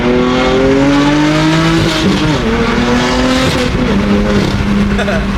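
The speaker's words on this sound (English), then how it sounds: "This car's been so much fun to drive, guys, with the new exhaust" A BMW F80 with a new exhaust drives past loudly, its engine note rising and shifting through gears with a constant roar and a bit of tire noise throughout, close and dominant.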